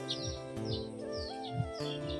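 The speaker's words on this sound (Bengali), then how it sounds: "এই গ্রামে আসলে একটা জিনিস, পাখির ডাক শোনা যায়, বিভিন্ন পাখির ডাক" Various birds call in a village in Shariatpur with faint, scattered chirps and short whistles repeating over a low background hum.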